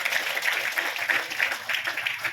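An audience claps for a former teacher, now an assistant professor, at a college event, with steady dense applause from a crowd that holds at an even level throughout.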